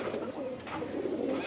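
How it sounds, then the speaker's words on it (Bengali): Large Surma Khaki pigeons coo softly in a short, low burble, heard faintly at close range with a faint voice underneath. "এই যে আমরা যাকে বলি সুরমা খাকি, এগুলো কবুতরগুলো অনেক বড় বড়,"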